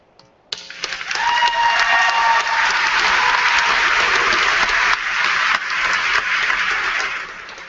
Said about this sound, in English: I would ask that our students give a standing ovation for the faculty and staff